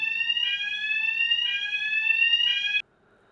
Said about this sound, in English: My neighbour is cooking, and she set off the alarms